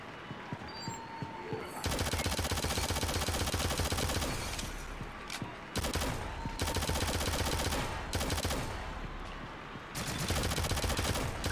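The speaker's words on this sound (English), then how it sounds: "He's using SMG." SMG gunfire in the shooter game Shadowgun Legends during a PvP match. Loud, rapid automatic bursts of several seconds each are split by short pauses, with a voice talking faintly underneath.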